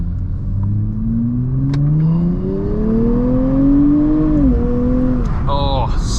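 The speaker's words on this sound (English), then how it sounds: "some of this beautiful engine noise that we have here" A 420-horsepower sports car engine revs and climbs through the gears in Saturday-morning traffic, a loud droning whine rising in pitch, dropping at a shift, then rising again, with a faint high tone near the end.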